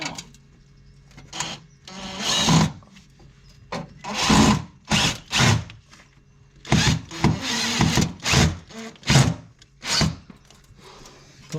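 A power drill drives screws while an oil boiler is fitted, whirring in a series of short bursts with pauses between them, close and fairly loud.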